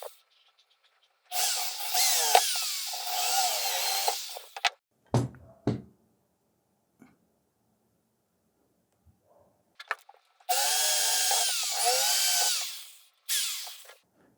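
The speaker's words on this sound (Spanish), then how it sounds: "Entonces voy a hacer los agujeros para fijar ahí." A power drill bores holes to fix a plate, running in two sustained bursts of whirring with short knocks and clatter between, loud and close with no talking.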